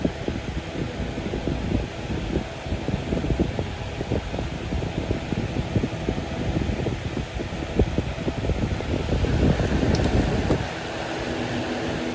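An early-2000s Holmes HABF-25 box fan running on high, a steady loud broadband whoosh of moving air with a slight flutter, continuous throughout and briefly changing near the end.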